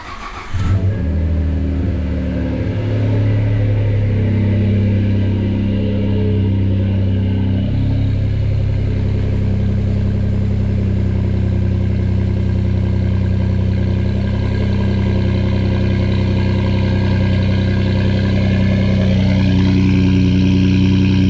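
Ford F-150 EcoBoost with an MBRP full exhaust holding a steady 2,500 RPM during catalytic converter break-in, a loud, continuous, even engine drone with a deep exhaust note from a brief start-up blip to the end, no talking.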